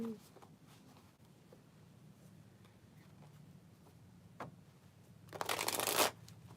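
A deck of tarot cards is handled with soft scattered taps, then riffle-shuffled in one loud, close burst near the end, while a voice talks quietly in the background.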